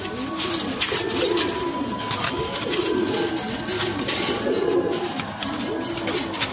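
Pigeons and very young pigeon chicks coo steadily in a loft, soft repeated coos overlapping throughout with no talking.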